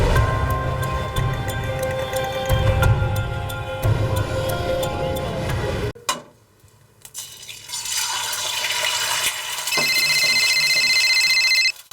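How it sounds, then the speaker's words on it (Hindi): A phone rings in a Hindi crime drama scene, its tonal electronic ringtone entering near the end after a dense musical passage and a brief lull, loud and steady with no talk over it. "देखना तेरा फोन बज रहा है"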